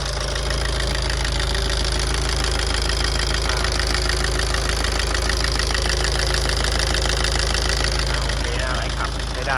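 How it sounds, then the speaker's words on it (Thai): A Tata diesel engine runs steadily after an injector repair, idling loud and close with a constant rumbling knock, while someone talks over it. "สตาร์ทเครื่องดูอะ อ่าเครื่องติดง่ายนะครับ"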